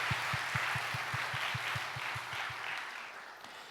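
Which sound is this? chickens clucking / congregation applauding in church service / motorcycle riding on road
congregation applauding in church service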